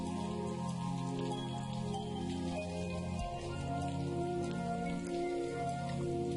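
Steady rain patters on surfaces in the video game The Maker's Eden, a soft, even wash of drops that lasts throughout with no talking.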